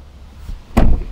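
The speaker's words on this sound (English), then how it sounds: "I want you to slam the door right now and just see what happens" The door of a Tesla Cybertruck slams shut with one loud, close, solid thump after a brief soft rustle.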